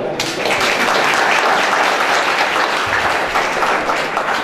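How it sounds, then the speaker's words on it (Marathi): Loud, sustained applause from a crowd at a credit society's annual general meeting, dense steady clapping that continues without a break from start to finish. "भूक लागलेली ना जोरदार एकदा टाळी वाजव"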